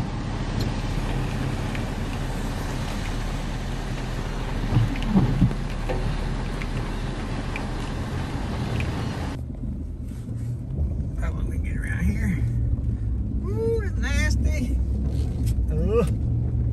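Skidder engine churning through sand, a steady low rumble with wind buffeting the microphone, loud and close throughout, with brief voices partway through.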